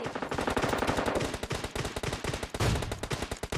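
Rapid automatic gunfire from PUBG Mobile on the Miramar desert map, loud and nearly continuous, with dense bursts of shots rattling throughout and a heavier volley near the end, no talking.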